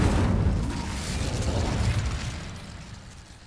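A fire spell cast in Hogwarts Legacy: a loud, sustained whooshing roar of flames with rumbling bursts that slowly fades over a few seconds, with no talk over it.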